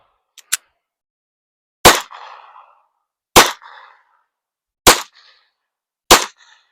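Five sharp, loud gunshots from a Ruger Mark IV .22 pistol firing regular and subsonic rounds without a suppressor: one faint early pop, then four evenly spaced cracks about one and a half seconds apart, each with a brief echo tail.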